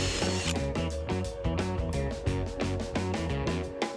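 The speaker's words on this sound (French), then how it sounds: "placez une scie cloche sur votre tournevis et percez les trous." A power drill fitted with a hole saw grinds and chatters in rapid pulses, its motor revving unevenly as it bites through material, loud and close.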